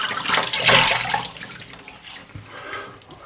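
Tap water runs into a bathroom sink to rinse off after shaving, a close, loud gush that swells early and then settles into a steady, softer flow, with no speech.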